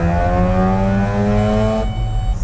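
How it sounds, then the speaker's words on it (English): A Japanese mini truck fitted with a Racing Beat exhaust revs hard, its engine note climbing in pitch close by before the throttle drops off; no one speaks. "Racing beat exhaust"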